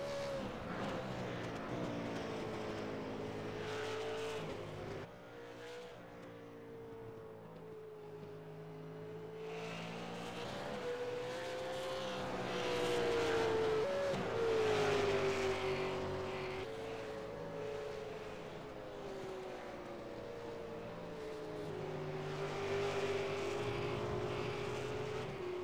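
Racing cars lap Silverstone in a racing video game, a steady engine drone with rising and falling pitch through shifts and corners, continuous and moderately loud with no talk.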